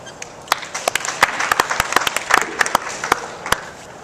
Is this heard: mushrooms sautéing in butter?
no